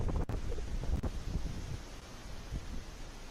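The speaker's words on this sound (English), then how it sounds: "It's loud out here, guys! And it's so windy right now!" Strong wind buffets the microphone in a loud, continuous roar with a couple of sharp thumps.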